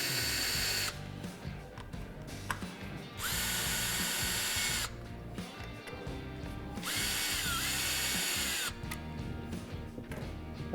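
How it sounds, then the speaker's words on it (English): A power driver with a 5/32 bit loosens the three bolts on a Vance & Hines air cleaner induction module of a motorcycle, sounding as three loud whirring bursts of about two seconds each, separated by quieter handling noise. "using the same 5/32, loosen up the 3 bolts into the induction module"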